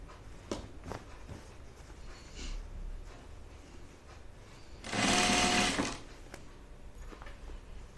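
A sewing machine stitches a flannel shirt backed with quilting cotton in a short, loud burst of about a second, with quieter handling sounds around it.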